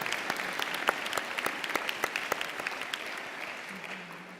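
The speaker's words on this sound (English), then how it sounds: "let's applaud them first" Audience applause for honors graduates at a university architecture and arts commencement ceremony, a dense, steady wash of many hands clapping with distinct individual claps popping out, holding fairly even before thinning slightly near the end.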